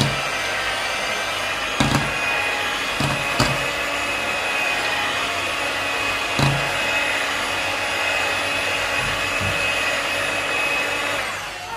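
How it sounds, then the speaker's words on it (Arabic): An electric hand mixer beats four eggs with vanilla sugar and a pinch of salt for a génoise sponge, a loud continuous whirring drone close by, broken by a few knocks of the beaters against the bowl. "ودابا غادي ناخذهم باش نطربهم بالطراب الكهربائي"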